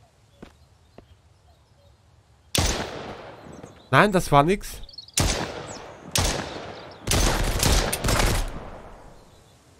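Gunfire in the survival video game Mist Survival: several loud, sharp shots with echoing tails, spaced a second or two apart after a quiet start, with a brief spoken remark between them.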